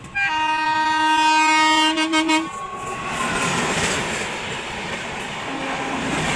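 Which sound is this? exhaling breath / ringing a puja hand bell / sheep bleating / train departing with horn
train departing with horn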